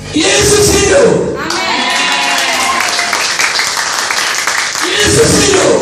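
Large church revival crowd in Surabaya breaks into loud applause with cheers and shouts during a sermon, sustained and close, with a preacher's voice over the clapping.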